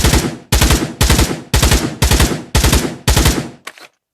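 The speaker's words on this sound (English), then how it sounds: "So now let's go to 3-round burst, 3-round burst mode." A rifle in three-round burst mode fires in the Pavlov Shack VR game, with seven loud, evenly spaced bursts of rapid shots, each followed by a short decay, and a last faint trailing shot.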